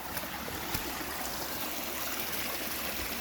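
A year-round stream on the Strawberry River pours steadily through a rocky washout, a continuous close rushing and trickling of water with no voices.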